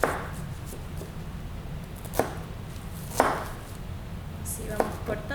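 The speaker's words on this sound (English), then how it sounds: "And then I'm gonna slice the opposite direction." A knife cuts kale on a cutting board in a few sparse, crisp chops spaced about a second apart over a quiet background.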